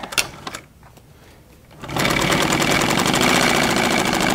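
A sewing machine back-tacks a dart seam in fabric: a few taps and a short pause, then a fast, loud, steady stitching rattle close by.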